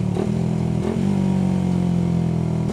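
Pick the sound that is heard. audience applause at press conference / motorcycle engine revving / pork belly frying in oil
motorcycle engine revving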